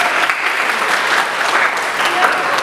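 Audience at a campus talk show clapping steadily and loudly throughout, a dense continuous wash of applause with no pauses.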